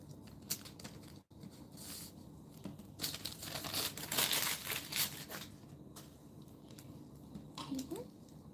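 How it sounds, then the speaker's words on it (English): Aluminium foil crinkling and crumpling as it is pressed onto polymer clay, close rustling bursts that swell louder in the middle, with faint background noise and brief human sounds. "I'm gonna add the extra bit of foil"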